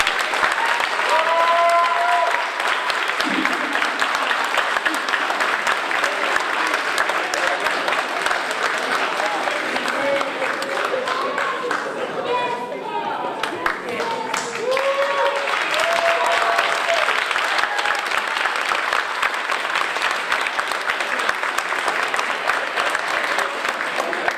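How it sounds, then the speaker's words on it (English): At an awards ceremony, the audience applauds at length, a thick, steady wash of clapping lasting over twenty seconds with brief voices and a short dip partway through before resuming at full strength. "Give him another round of applause."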